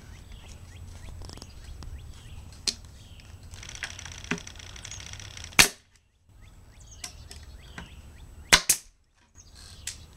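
A pneumatic fastening gun fires into a wooden honey bee box, with a few sharp, loud cracks spaced apart, some in quick pairs, over a quiet workshop background.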